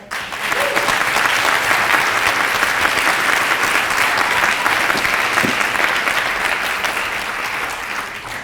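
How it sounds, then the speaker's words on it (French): Audience applause at a French debate championship final, loud and dense clapping from a large crowd that holds steady for several seconds before easing slightly at the end. "sous vos applaudissements"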